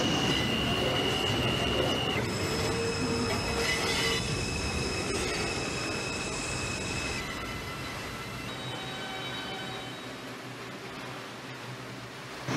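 A video-game R142 subway train on the 2 line rumbles along steadily with high metallic wheel squeals and whining tones, loud and close, gradually easing off toward the end.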